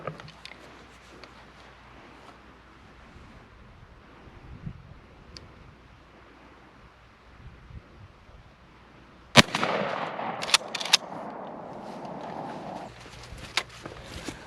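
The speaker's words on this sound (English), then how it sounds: "So now we're shooting at 30 yards with the modified choke to see the pattern of a squirrel load." A Browning BPS 20 gauge shotgun fires a squirrel load with a modified choke at 30 yards outdoors: a single sharp blast midway, followed by a noisy stretch of handling and movement, against faint wind and ambient background.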